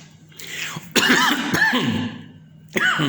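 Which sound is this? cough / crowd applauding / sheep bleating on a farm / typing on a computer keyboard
cough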